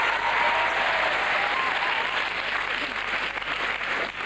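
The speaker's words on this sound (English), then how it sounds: "Thank you for your applause." A studio audience greets a comedian's entrance with loud, dense applause that holds steady and tapers slightly toward the end, with no talking over it.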